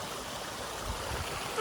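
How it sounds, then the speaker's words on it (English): A small waterfall in a natural setting gives a soft, steady hiss of falling water with faint gurgling, fairly distant and low in level, unbroken over a brief moment with no voices. "here's the next waterfall. It's just smaller, but it's nice."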